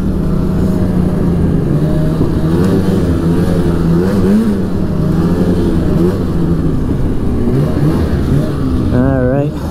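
A Polaris Edge X 800 short-track snowmobile with a studded track runs loud and close, its engine droning and rising in pitch as the revs climb and fall, with voices under the noise.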